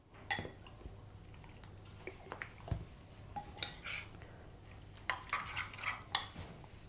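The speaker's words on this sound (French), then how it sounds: "Assaisonner de sel fin et bien mélanger" Chermoula paste with ground ginger being stirred into olive oil in a bowl, a series of soft scraping and clinking strokes, with a few sharper utensil taps near the end and no voices.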